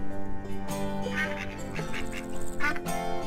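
A flock of ducks in the Farm Together video game quack repeatedly in overlapping nasal calls, clear and close, with a steady game background underneath and no speech.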